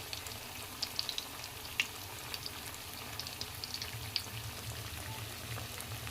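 Food for a satvik vrat thali fries in hot oil and ghee with a steady close sizzle dotted by scattered sharp crackles and pops, with no one speaking.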